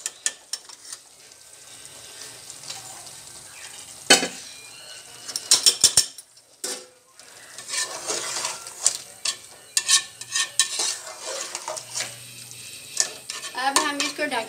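Half a kilo of potatoes fries in oil while being stirred for a carrot, potato and fenugreek sabzi: a soft sizzle under frequent clattering scrapes and knocks of a spoon on the pot, close and uneven.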